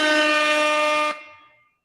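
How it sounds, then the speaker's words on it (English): A single loud air horn blast, a steady bright tone lasting about a second before cutting off sharply and ringing briefly into silence. "Rob, get the air horn ready."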